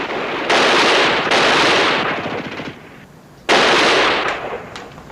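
Bursts of machine gun and rifle fire from a war TV episode, loud and close, in two long sustained volleys separated by a quieter pause, with no voices.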